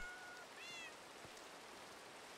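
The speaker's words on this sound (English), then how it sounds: "That's a different cat." Cat meowing faintly in Minecraft, a brief high-pitched mew or two early on over a soft rain-like hiss.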